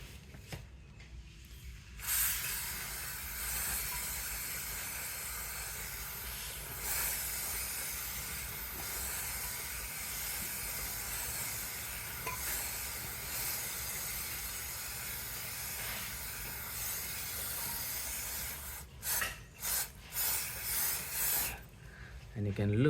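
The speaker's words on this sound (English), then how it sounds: "then you have to spray the chain lube" Chain lube sprayed onto the drive chain of a 2023 Royal Enfield Bullet 350, a long steady aerosol hiss close to the mic that ends in a few short bursts.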